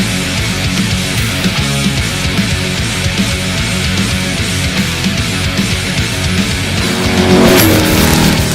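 Off-road race cars roar through a packed field of over 300 entries at the SNORE Rage at the River race in Laughlin, Nevada, including Class 1450s and trophy trucks; loud, continuous dense engine noise with a swelling pass near the end.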